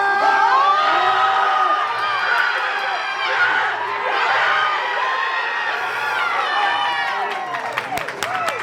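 Crowd at a powerlifting meet, a teen national championship in the 105 kg class with a record deadlift, yells and cheers loudly and without a break, with shouts and whoops rising over the steady roar.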